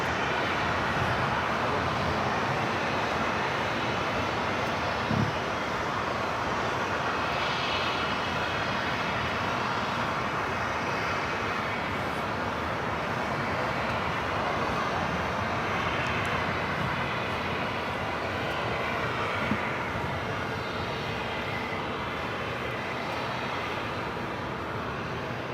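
A Boeing 737 MAX 8 being pushed back from the gates at LAX at night, a constant broad engine and airport roar holding steady throughout with no talk over it.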